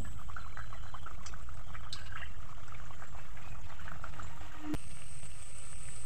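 Biscuits frying in oil over a very low flame, a constant close bubbling sizzle that holds steady throughout, with one sharp click near the end and no voices.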